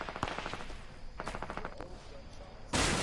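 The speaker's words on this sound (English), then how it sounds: "I know there's so many gunshots there." Video game gunfire: rapid bursts of shots in short clusters, fairly distant and mid-level, followed by a loud, sharp broadband blast near the end.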